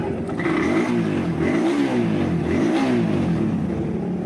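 A 2020-model car engine, close by, revs up and eases back a few times during a vibration check, its pitch climbing and dropping in smooth swells over a constant rumble.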